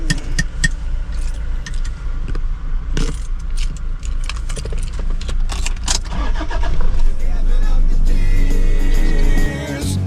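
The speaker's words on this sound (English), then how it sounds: "I'm gonna start the truck." A truck engine starts up, with keys jangling and car interior noise beforehand, and the motor settles into a steady hum near the end while people talk over it.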